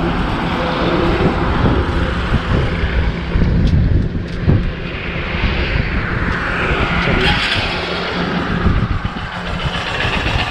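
A Honda CB Shine SP motorcycle engine runs steadily up close, a continuous rough, loud rumble with no talking over it.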